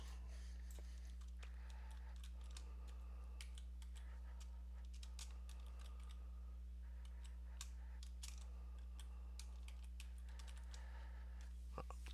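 Steady typing on a computer keyboard, with irregular rapid key clicks continuing throughout over a low constant electrical hum, quiet and close.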